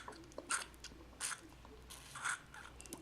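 Suction test on a newly tied oboe reed staple, giving three short sharp sucking hisses with pauses between, close up in a quiet room.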